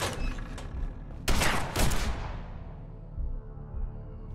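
Two loud shotgun blasts fire in quick succession in Fallout 4, close by, each a sharp broadband crack with a short decaying tail over low game ambience.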